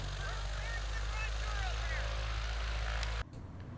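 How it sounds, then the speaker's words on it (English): A Mooney M20 light airplane lands on a short field with a steady, loud engine and propeller drone that cuts off abruptly near the end, and faint voices sit beneath the noise. "Mooney M20 landing at Field of Dreams"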